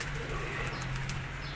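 Pigeons cooing softly in a short, quiet stretch, with low repeated throaty calls heard close by over a faint, steady background hum.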